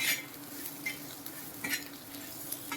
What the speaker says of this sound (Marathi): मिरची आणि लसूणचा थोडासा परतून झालेला आहे